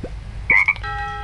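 The Tree Frog character in the game Crossy Road croaking: a short low chirp, then a brighter two-part croak, followed by a sustained tonal chime, quick and close with no voices.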